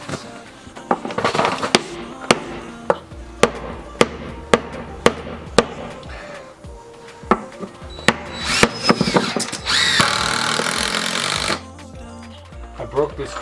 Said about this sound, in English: screwing down the boards